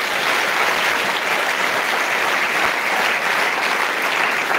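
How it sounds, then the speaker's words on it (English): Dense, steady applause from an audience filling a school hall during a dedication service, sustained without a break for several seconds at full loudness. "let us give the Almighty God a mighty hand clap"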